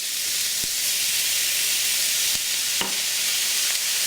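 Soy sauce hits a hot wok of stir-fried leftover turkey with a steady, close, loud sizzle and hiss, a few faint clicks of utensils breaking through the constant frying noise.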